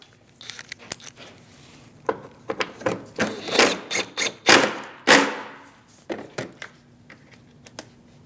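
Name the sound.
tightening 10mm bolts on radiator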